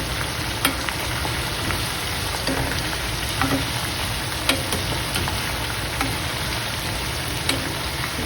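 Curry leaves and garlic frying in hot oil, a loud, dense crackling sizzle with scattered sharp pops and occasional stirring scrapes, steady and close with no speech.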